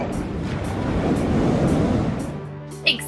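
Ocean surf washing onto the shore at Blowing Rocks Preserve, a broad steady roar that swells and then eases off, with some wind buffeting the microphone and a brief knock near the end.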